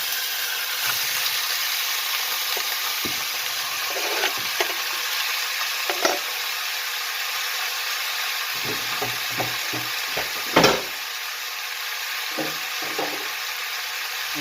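Kimchi sizzles and fries in a pan while being stirred, a steady close hiss with intermittent scraping and clacking of a utensil against the pan, no voices.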